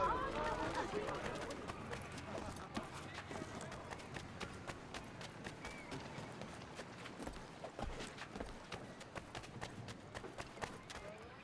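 Horses clip-clopping through a city street in Assassin's Creed III, repeated hoof strikes at a quick pace over a busy background while voices talk over them.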